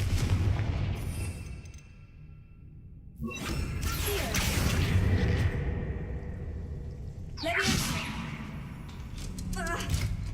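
In Hogwarts Legacy, a Confringo fire spell sets off explosive whooshing booms in two main bursts, with a softer crackling impact near the end.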